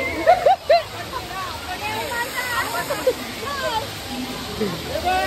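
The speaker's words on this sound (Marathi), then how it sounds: "बघा सगळं पाणी उडवला" Water rushes and splashes continuously in a water park pool, loud and close, with people talking and shouting over it throughout.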